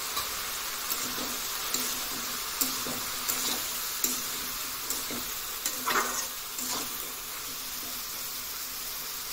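A fish head stirs in a pan with salt, giving a continuous hissing sizzle with soft repeated scraping strokes at a regular pace, close but fairly quiet throughout.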